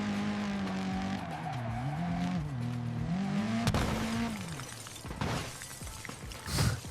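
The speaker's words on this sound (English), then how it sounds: "the car hits something and it suddenly flips, rolling over the frozen ground" An AI-generated rally car crashes and flips over on a frozen lake. A loud engine whines and shifts pitch with tyre skidding, then clattering crash impacts and a final burst near the end.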